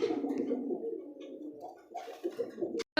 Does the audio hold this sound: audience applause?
no